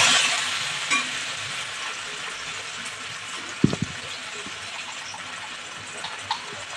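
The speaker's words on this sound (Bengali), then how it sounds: "এবার পটলের যে পেস্টটা এবার কড়াইতে দিয়ে দেবো।" Pointed gourd paste goes into hot oil in a wok, giving a steady broadband sizzle with a few louder spits and scraping stirs, close by and with no talk.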